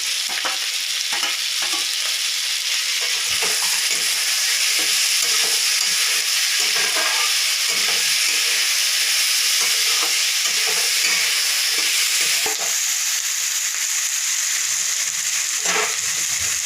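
Tomato and green chili fry in onion-ginger-garlic paste for an egg and potato curry, a loud dense sizzle up close broken by frequent spatula scrapes and taps against the pan.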